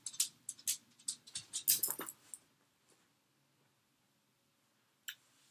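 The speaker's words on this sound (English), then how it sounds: "If that fucking dog comes back in here one more time." Cooper the dog moves around a room nearby: a quick run of light pattering and scrabbling sounds over about two seconds, then silence apart from one faint brief knock.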